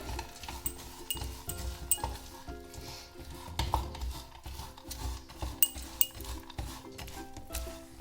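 Roasted crushed peanuts being stirred into hot jaggery syrup in a pan, with repeated clinks and scrapes of a spoon against metal over a faint sizzle, close and without speech.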